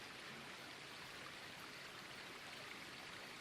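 A babbling creek in the Grand Canyon flows steadily, a soft, even rush of trickling water that holds constant throughout without any voices.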